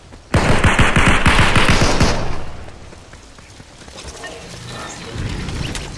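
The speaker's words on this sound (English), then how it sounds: "Somebody's shooting." A rapid burst of automatic gunfire in the Fortnite video game rattles loud and close for about two seconds, then fades to quieter background game sounds with a faint swell near the end.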